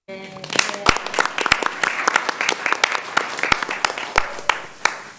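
Applause from the audience at a county Board of Education meeting honoring excellence in education, with distinct individual claps up close over a sustained crowd clapping that continues for several seconds, loud and uneven.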